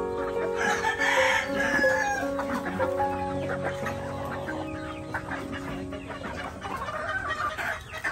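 Kanawayon breed chickens and roosters on a farm in Surigao del Norte, with steady clucking and repeated crowing from several birds close by, layered over one another for the whole stretch.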